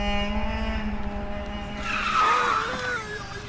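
A car brakes hard with a loud tire squeal and skid rising over its engine hum, close by, in a Marathi film scene.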